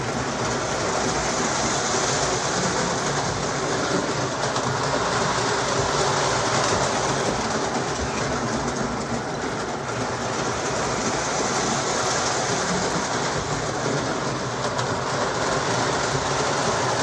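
A Lionel O-gauge model train hums and rattles steadily along its track, a continuous close whirring with no pauses.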